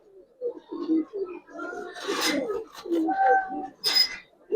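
Pigeons coo in short, moderately close bursts, among them a long-necked hen with pearl eyes, with brief clinking noises and a sharper call breaking in near the end.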